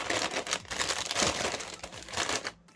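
Plastic bags holding runners from an SD Gundam World Heroes Robinhood Gundam AGE-2 model kit crinkle and rustle loudly and close, in continuous handling for a few seconds before stopping.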